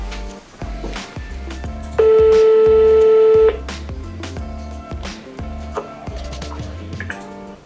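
An outgoing phone call gives one steady ringback tone lasting about a second and a half, loud and close, over a busy background of rhythmic tonal sounds.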